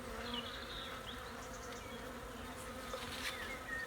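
Honeybee scouts buzz around a bait hive in a garden on a hot day before swarming, a steady close hum with darting higher whines of individual bees passing near.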